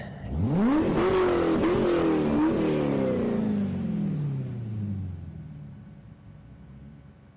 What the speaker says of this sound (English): Now that's a modern V8.